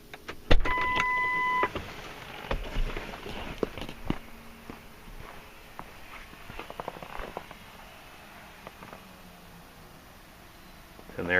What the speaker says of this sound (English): That's a fuel pump filling that filter base up.